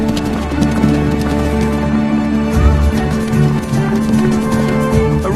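Racehorses gallop in a long-distance Mongolian cross-country race, their hooves drumming in a fast, continuous clatter against a busy, loud background.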